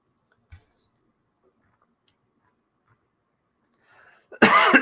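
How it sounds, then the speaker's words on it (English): A cough during an open chat stream, a single loud harsh burst right at the end after near silence, preceded by a faint click and a brief soft rustle. "I apologize for all the coughing and everything"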